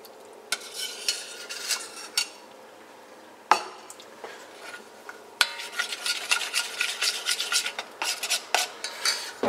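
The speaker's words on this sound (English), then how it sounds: "And stir this constantly." Flour and melted butter being stirred constantly in a pan: a utensil scrapes and clinks steadily against the metal, with brief pauses and a louder burst of rapid scraping in the second half, close and without talk.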